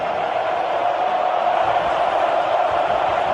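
A large stadium crowd roars in a dense, sustained wash of cheering right after a penalty goal at a professional football match, loud and unbroken throughout.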